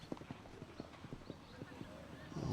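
A horse gallops on a cross-country eventing course at the 2009 FEI World Cup Eventing Final in Strzegom, its hooves drumming in a steady rhythmic clip-clop beneath a commentator's talk.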